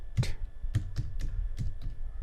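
Keys on a computer keyboard clatter in a short, uneven burst of close clicks as a terminal command is typed into Ubuntu, with no talk over them.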